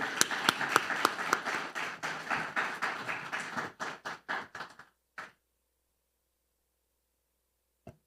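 A church congregation claps to welcome a preacher to the front, starting as a dense round of applause that thins into a few scattered claps before fading to silence, with one last isolated clap near the end.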